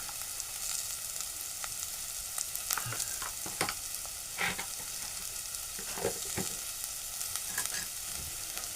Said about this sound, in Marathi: हे परत परतून घेऊ आपण